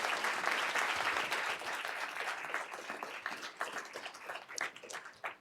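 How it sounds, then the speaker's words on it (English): An audience at a school board of education meeting applauds students, a dense, fairly loud burst of many hands clapping that gradually thins and fades toward the end. "Let's give those students a round of applause."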